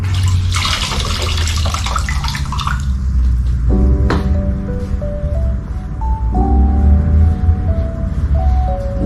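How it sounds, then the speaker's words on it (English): Water splashes and sloshes as a microfiber cloth is dipped and squeezed, followed by ringing drips and trickles into a basin, close and clear. "You take your microfiber cloth and get it nice and damp."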